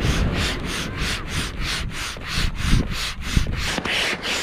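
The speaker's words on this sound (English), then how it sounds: "So I'm just gonna pump it up and see how it looks like." Hand pump inflating the bladder of a Vantage Vulture 2nd generation kite, a steady run of rhythmic whooshing strokes about every third of a second, close and fairly loud with no voices.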